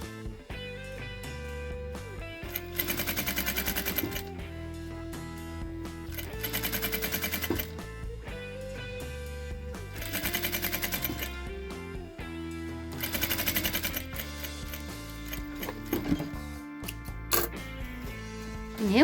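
A sewing machine runs in four rapid, steady bursts of stitching, close and mechanical, separated by short pauses with quieter handling sounds and faint musical tones underneath.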